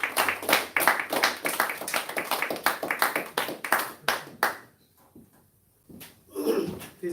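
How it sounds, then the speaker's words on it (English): A temple service congregation gives a round of applause, sharp irregular claps of many hands for about four seconds, then they stop and a voice speaks briefly after a pause. "Let's give our beloved brother another round of applause, please"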